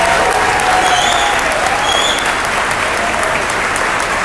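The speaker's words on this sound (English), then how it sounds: "He really deserves a round of applause." A crowd at a South Florida real estate event applauds steadily, dense and loud clapping holding at an even level throughout, with a few faint voices and whistles mixed in.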